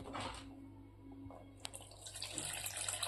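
Whey from curdled milk pours through a clean white cotton cloth while paneer is being made, a faint trickling, splashing stream of liquid that grows fuller toward the end.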